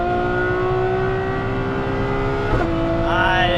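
A Novitec Ferrari F12 N-Largo pulls hard, its loud engine note climbing steadily before a sharp gear shift cracks through, then rising again as the revs build once more.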